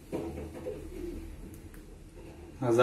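Pigeons coo softly outside a window by a balcony, low rounded calls under faint room noise with a brief voice near the end.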